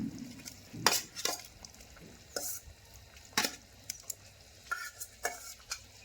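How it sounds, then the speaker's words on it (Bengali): Fried cauliflower and prawns are stirred into a simmering potato curry in a pot, with repeated scraping strokes of a spoon over a soft sizzle, close by and with no talking. "এবার ভেজে রাখা ফুলকপি চিংড়ি মাছটা দিয়ে দেবো একসঙ্গে"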